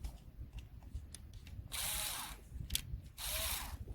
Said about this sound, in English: you have a torque screw just there. We're gonna just use a screwdriver for quick.